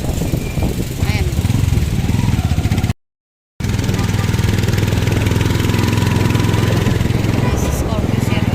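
A Scorpio 08 motorcycle engine runs with a steady, low, rumbling drone close by, holding an even tone throughout with a brief gap partway through and faint voices in the background.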